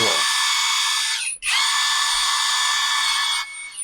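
A cordless impact driver's high-pitched motor whirs steadily and close, briefly dropping out once before spinning up again, with a low hum underneath.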